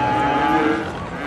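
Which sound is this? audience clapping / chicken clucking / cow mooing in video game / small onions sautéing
cow mooing in video game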